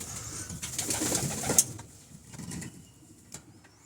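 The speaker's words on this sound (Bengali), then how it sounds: "কবুতরগুলো মূলত ওড়ার জন্য অনেক করতেছে" Pigeons coo softly inside a flying and breeding loft, a few low murmuring calls close by with faint rustling and a brief sharp knock.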